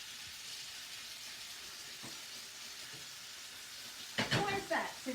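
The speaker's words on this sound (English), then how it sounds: "Why is that sizzling and that one isn't?" Two pork escalopes frying in a pan give off a soft, steady sizzling hiss, close but quiet, with a short louder clatter near the end.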